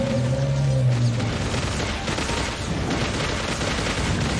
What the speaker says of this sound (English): Okay, it's a boss fight. Alright, shoot the dragon.